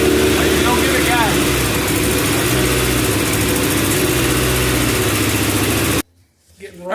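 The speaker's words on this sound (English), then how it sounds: "It's idling kind of rough." A car engine idles close by with an uneven, rough running note for several seconds, then cuts out abruptly into near silence.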